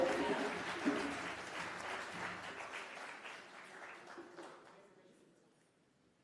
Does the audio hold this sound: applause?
yes